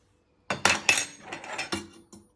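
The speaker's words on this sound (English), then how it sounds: "with your fork, just start stirring that in" A fork stirring gravy granules into hot water, with a quick series of bright metallic clinks and scrapes against the side of a bowl or jug, close and clear with no talk.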